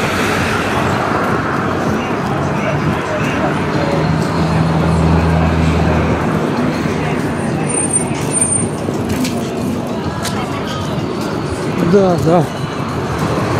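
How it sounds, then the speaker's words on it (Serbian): Busy street traffic at a tram stop in a city, with a steady wash of passing cars and vehicles nearby, a louder low rumble mid-way and a brief whine near the end, while people talk over it. "Mi smo na tramvajskoj stanici"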